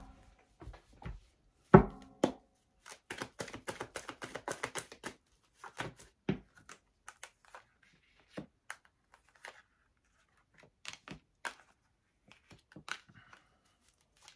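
Tarot cards are shuffled and cut into three piles: a rapid, close flurry of papery clicks and riffles, followed by scattered taps and soft slaps of cards set down, with no speech.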